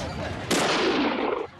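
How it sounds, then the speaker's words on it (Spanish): A single sharp gunshot sound effect cracks loudly in a comedy sketch, with a bright burst that rings and decays over about a second before cutting off. "Con un disparo certero lo habían dejado seco"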